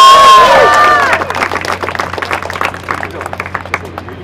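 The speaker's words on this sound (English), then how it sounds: "Round of applause for Lisa." Audience applause and cheering for a speaker at an outdoor campout gathering, a short burst of scattered clapping and crowd noise that starts under a brief amplified voice and thins out quickly.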